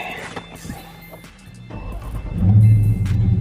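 A 2020 Dodge Charger Scat Pack widebody starts up after quieter cabin clatter, its V8 engine swelling into a loud, deep, close rumble that holds steady to the end.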